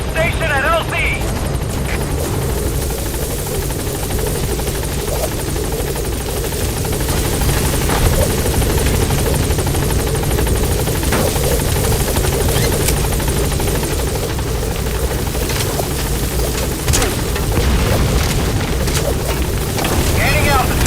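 The B-Quad support helicopter in Metal Gear Solid V roars with a dense, steady rotor wash as it arrives at the landing zone, loud and continuous throughout, with radio voices now and then.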